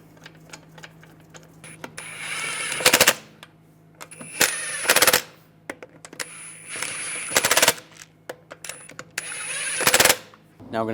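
Rapid bursts from an impact wrench driving lug bolts onto the front wheel of a 2006-2009 Mercedes-Benz E350, five loud, close rattling runs separated by short pauses over a low steady hum.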